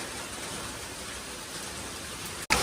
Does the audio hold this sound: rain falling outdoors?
yes